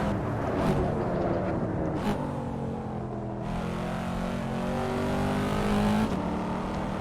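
A Corvette C7 engine in the racing game Assetto Corsa revs and roars through gear changes, the pitch climbing and dropping with each shift. Loud and close, with no talking.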